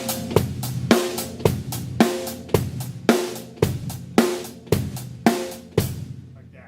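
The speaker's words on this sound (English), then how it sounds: "if you were to just play the song regular, it would sound like this" A drum kit plays a song's groove: evenly spaced kick and snare hits alternating at a steady mid tempo with busy hi-hat strokes between them, close and loud, ending on a ringing decay.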